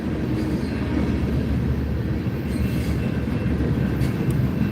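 A long freight train rolls past on the Transcon with a DPU locomotive at its tail, making a loud, continuous low rumble of wheels on rail with faint squeals and clatter, close by and unbroken.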